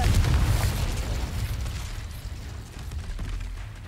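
Fiery explosion spell cast in the Hogwarts Legacy video game, a loud low boom at the start that rumbles and fades over a few seconds, with no voices.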